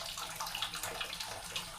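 Water runs steadily from a tap in a basic island cottage on Malenge in the Togian Islands, a soft continuous hiss and trickle heard up close for a couple of seconds with no talking.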